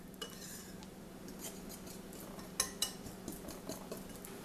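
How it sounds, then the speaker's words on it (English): A whisk works through dry flour in a bowl, a quiet scratchy rustle with a few light clinks of wire against the bowl, faint and steady with no talking. "I'm just going to take a whisk and kind of go in and whisk this dry flour to break up any large clumps"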